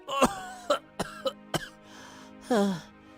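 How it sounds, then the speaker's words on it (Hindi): A burst of several dry coughs, close and loud, in quick irregular succession, ending with a longer throaty cough or clearing sound. "मेरी तबीयत कुछ ठीक नहीं है, ऊपर से खांसी।"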